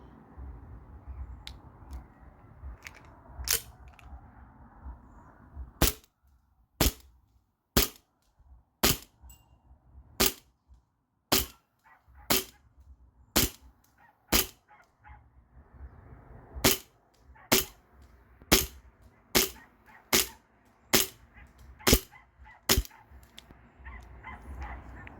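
Roughly seventeen sharp, snappy shots from a Sig Sauer Emperor Scorpion BB pistol with a mock suppressor, fired outdoors at a distant pole in a quick, fairly steady rhythm over faint background noise.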